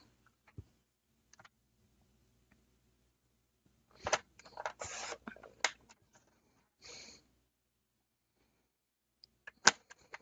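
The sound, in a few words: cutting paper card stock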